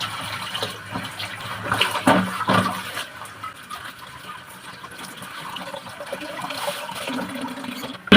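Tap water runs and splashes while pointed gourds are washed in a home kitchen, a steady rushing flow with brief louder splashes near the start.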